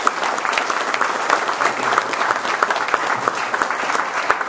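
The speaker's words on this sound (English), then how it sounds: "Give him a round of applause" A room of people at an energy bill signing with the governor claps for the committee chairman, steady dense applause from start to finish with no talk over it.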